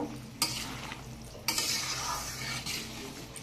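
Carrot, turnip, bean and potato curry cooking in a pan, a soft sizzle and bubbling bed broken by a few sharp spatula scrapes and utensil clinks against metal, no talking.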